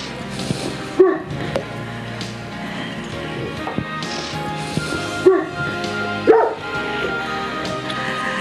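Several dogs at a kennel bark, yip and whimper in bursts, with a few sharp louder barks standing out over a busy background, and a voice speaking faintly at times.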